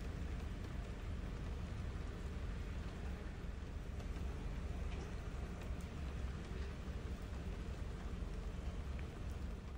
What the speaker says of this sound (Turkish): O kadar güzel yağmur yağıyordu ki.